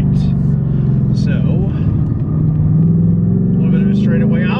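A 2024 Ford Mustang GT drives through back-and-forth turns, its engine and road rumble holding steady and loud throughout while someone talks over it.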